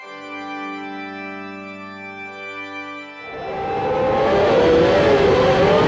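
Formula One cars in the 1994 season scream off the line at a race start, first a sustained high engine drone, then a sudden loud surge of many engines revving and accelerating together.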